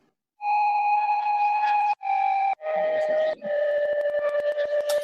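A synthesized bass layer from the Trivecta synth plugin, heard alone as a steady sustained tone with bright harmonics, cut into four held phrases with short gaps, growing grittier and rougher toward the end.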